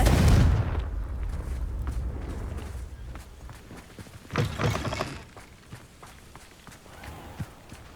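Confringo blasting curse cast in Hogwarts Legacy inside a spider-infested underground cellar, a sharp burst landing mid-clip after a loud opening thump, then low rumbling game ambience and scattered footsteps.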